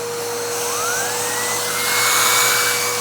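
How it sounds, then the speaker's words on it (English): A Bissell Cleanview 2492 upright vacuum runs with its Pet Hair Turbo Tool, a loud, steady motor whine and airflow roar with a pitch that sweeps gradually upward as the turbo brush spins up. "let's go ahead and test out the Pet Hair Turbo Tool"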